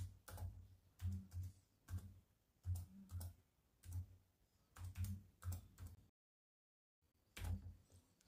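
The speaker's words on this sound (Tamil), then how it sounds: "நான் ஆங்கிலர் Part-1 அப்படின்னு டைப் பண்ணிக்கிறேன்" Quiet typing on a computer keyboard while creating an Angular project, steady bursts of clicky keystrokes in rhythmic clusters, a short pause, then more typing, no talking.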